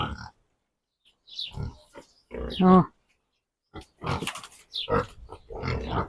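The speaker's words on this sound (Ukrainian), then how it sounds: "Вони бігають, відпочивають наші свині." Pigs grunt in short low bursts between stretches of quiet, with a person's voice talking nearby over them.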